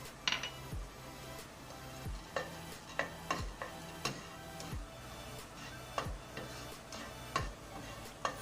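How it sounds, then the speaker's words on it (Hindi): Pistachios roasting slowly in a pan over a low flame, stirred with a faint sizzle and a run of sharp clicks and taps as the nuts and spoon knock the pan, quiet and with no talking. "सबसे पहले इसमें पिस्ता डाल के मैं पिस्ता रोस्ट कर लूँगी।"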